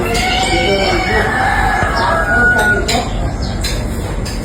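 A rooster crows amid a busy rural farmyard in the Philippine countryside, its drawn-out call rising over steady background noise while someone talks nearby.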